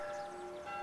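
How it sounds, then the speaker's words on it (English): Church bells ring in a quiet English village setting, a steady sustained metallic tone with harmonic overtones, fairly faint and distant, with no voices over them. "Bells?"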